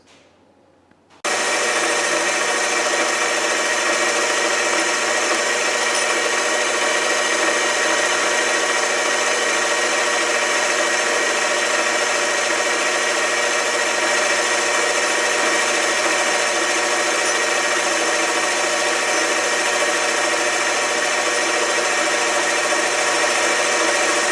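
Chinese lathe taking a light cut on a part from a 1977 Chevrolet Chevette, a loud steady machine whir with a broad hiss that starts abruptly after a second of quiet and runs unbroken to the end.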